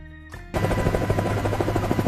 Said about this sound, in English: This is a military helicopter.